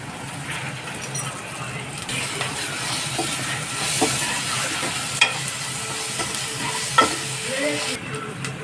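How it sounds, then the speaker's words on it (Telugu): Ginger garlic paste frying in a pan for a goat intestine curry, a loud continuous sizzle and hiss with stirring scrapes and a couple of sharp clinks, heard up close without talk. "తరువాత అల్లం వెల్లుల్లి పేస్ట్ వేసుకోవాలి"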